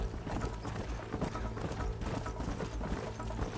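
Hooves of a horse in Red Dead Redemption clop in quick, steady beats, close and continuous over a low game ambience.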